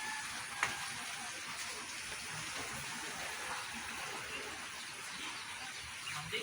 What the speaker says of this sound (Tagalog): ni ulan na naman